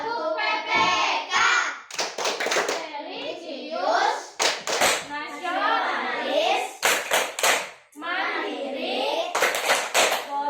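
A group of children at an Indonesian school performs the Tepuk PPK clapping chant, with crisp bursts of synchronized hand claps punctuating their loud, rhythmic chanted words, alternating between clap clusters and spoken chant lines.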